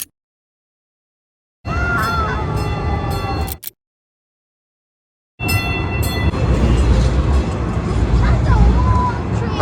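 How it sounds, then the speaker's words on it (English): A long tram rumbles past close by on a downtown Denver street, its wheels grinding and squealing in two loud stretches separated by a cut to silence. "That's a long tram."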